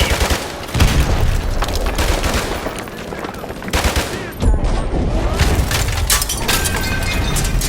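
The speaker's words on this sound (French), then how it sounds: "Je tire!" Heavy gunfire and explosive booms from a tank cannon in the game Call of Duty Modern Warfare remastered, loud and continuous with bursts, crashes and debris over a dense battle din, two main blasts near one and four seconds.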